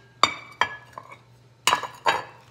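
Ceramic kitchen plates being handled, five separate sharp clinks and knocks spaced unevenly, close and clear against a quiet background hum.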